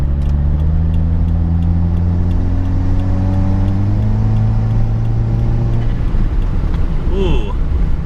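A 2017 Subaru Forester XT fitted with an AEM cold air intake and Boomba Racing blow-off valve pulls under throttle, its engine drone rising steadily through the rev range, then a brief flutter near the end as wind noise hisses over it.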